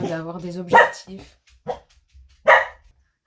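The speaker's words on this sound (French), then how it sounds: "avec le chien qui aboie" A dog barks indoors in a home, with two or three sharp, fairly loud barks breaking through as someone speaks French.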